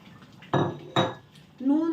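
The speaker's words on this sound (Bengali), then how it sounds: "এখন আমি যেটা করবো সেটা হচ্ছে ডিমগুলো ঝোলের মধ্যে ছেড়ে দিচ্ছি" Eggs slipped into curry gravy in a pan make two sharp clattering clinks a half-second apart, followed by a brief tonal ring.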